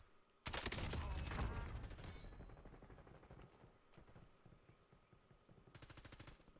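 Video game gunfire erupts in a loud, dense automatic burst that fades into scattered rattling, then a second shorter burst of rapid shots near the end.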